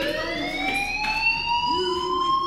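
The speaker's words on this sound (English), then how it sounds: "do you hear that fire alarm? That means you should be outside." A fire alarm rings in the video game Life is Strange, a loud, continuous electronic wail with steady rising tones that fill the whole stretch, heard alone without talk.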